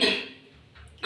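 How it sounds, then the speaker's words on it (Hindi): A single short cough from someone with a lingering cough, close and fairly loud at the start, followed by quiet room sound. "अभी भी मुझे खांसी बरकरार है।"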